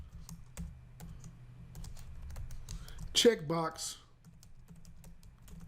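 Computer keyboard typing runs steadily through the clip at low level, with a brief spoken word from a nearby voice partway through.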